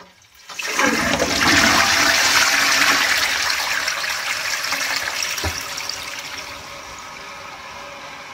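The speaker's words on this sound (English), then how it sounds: "As you can see, the cleaning liquid drips down and we are flushing the toilet." A toilet flushes after cleaning liquid drips from the holes in the bowl rim, a loud rushing surge of water that gradually subsides into a steady trickle of refilling, with no voices.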